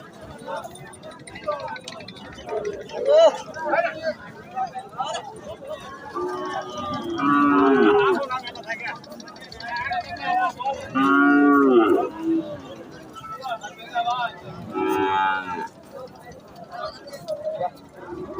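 Sahiwal cattle lowing at a livestock market, several loud drawn-out moos close by amid crowd chatter and people talking.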